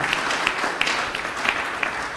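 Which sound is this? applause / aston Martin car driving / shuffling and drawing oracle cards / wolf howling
applause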